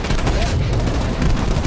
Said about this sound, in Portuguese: tá vindo tiro de tudo que é lado